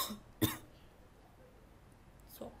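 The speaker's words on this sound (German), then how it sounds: "Aber ich muss mal gerade husten." A person coughs twice, one sharp close cough early on and a softer one near the end, with quiet room tone between.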